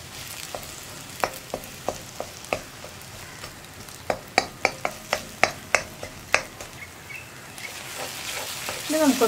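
Eggs frying in a pan for a Kerala-style koorka mutta mezhukkupuratti, stirred with a spatula: a steady low sizzle with a string of sharp scraping and tapping strokes in an uneven rhythm, close and clear, no talking.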